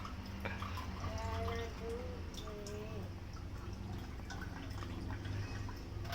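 A weak trickle runs from a tap, thin dripping and splashing water close by, with a few faint voices and whistle-like tones in the background.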